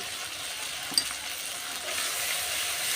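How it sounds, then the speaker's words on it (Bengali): Turmeric, chili powder and salt frying together in a pan for a fish curry, giving a steady close-up sizzling hiss with one brief click partway through. "এবার সব মশলাগুলো আমি একসাথে একটু কষিয়ে নেব"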